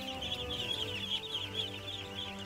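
A flock of young ducklings raised on a farm, peeping in a rapid, overlapping chorus of high chirps that continues steadily at a modest, fairly soft level.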